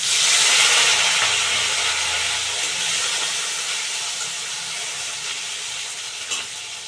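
Cumin, potatoes and tomatoes sizzle loudly in hot oil, a dense continuous hiss and crackle up close that eases off slightly over time, with no talking.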